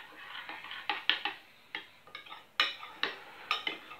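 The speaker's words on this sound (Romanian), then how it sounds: "Să amestecăm. Le amestecăm așa bine." Buckwheat and seeds stirred in a bowl, a spoon knocking and scraping against the sides in quick irregular clinks, close and clear.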